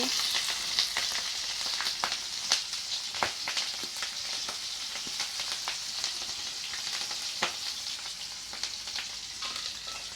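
Chopped green chillies fry in oil in a pan with an even hiss, broken by frequent sharp pops and clicks that sound close, with no talking.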